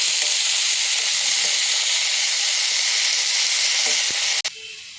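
Saag greens fry in an open, uncovered pan over a medium flame, giving a steady, loud sizzling hiss that holds evenly and then drops away suddenly near the end.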